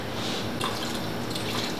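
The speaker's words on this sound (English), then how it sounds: "Just adding a little more juice to the stock." Vegetable juice from corn and green beans pours into a beef stew stock, a short soft splashing and trickling of liquid, close and steady without talk.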